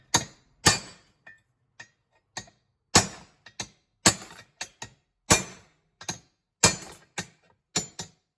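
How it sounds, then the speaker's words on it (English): A drilled metal turbo part for a low-budget twin turbo LS build is struck again and again, giving about a dozen sharp, loud impacts at an uneven pace, each ringing briefly with silence between. "let's smack this thing and see if it'll break"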